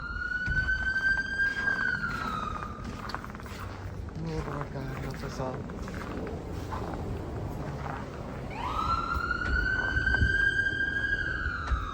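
A wailing emergency siren rises and falls nearby, fading out midway and then surging back loud and close, while a person speaks over it.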